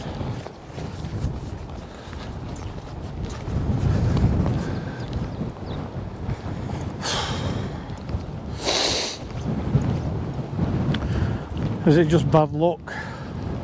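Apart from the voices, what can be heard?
strong wind while fly fishing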